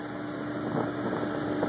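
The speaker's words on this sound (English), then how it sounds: "Got the little window open, so we get wind noise." Steady rushing wind noise through an open boat window over a droning boat engine hum, constant and fairly loud throughout with no talking.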